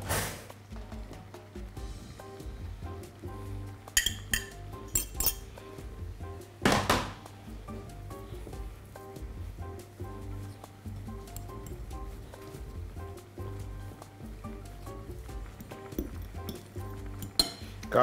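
Cottage cheese being mashed in a bowl for stuffed cannelloni, with clinks and scrapes of a utensil against the dish repeating steadily throughout, plus a few sharper knocks.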